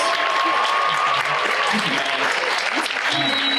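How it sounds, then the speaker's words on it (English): A convention audience at Anime Pasadena 2025 applauds the DanDaDan cast in a theater, a loud, continuous wash of clapping with cheers and faint voices mixed in throughout. "can we get a round of applause for the cast of DanDaDan, please?"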